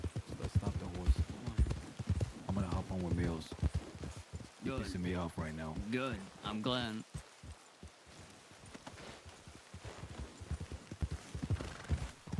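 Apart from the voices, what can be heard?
horse hooves clip-clopping in a video game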